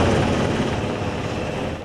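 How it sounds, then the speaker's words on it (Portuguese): Long-range cannon fire during a periodic military training exercise, heard as a sustained, heavy low rumble with a broad roar that slowly fades toward the end. "canhões de longa distância"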